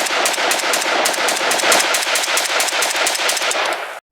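A Romanian AES-10B rifle empties a full magazine in one sustained burst of rapid automatic fire, loud, close and steady for about four seconds before it stops abruptly.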